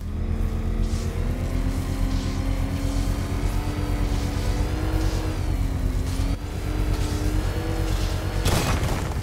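Engine revving in the Batman: Arkham Knight video game, a steady loud motor drone with wavering pitch that holds throughout and ends in a brief burst.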